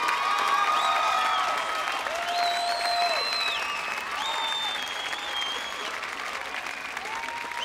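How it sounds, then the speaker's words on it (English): An audience applauds the four Grand Championship contenders, a steady wash of clapping with some cheering, loud at first and then easing slightly while holding on for several seconds. "A round of applause for our 4 Grand Championship contenders."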